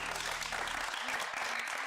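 A studio audience gives a short, dense burst of clapping on a talk show, loud and close. It fades out within about two seconds.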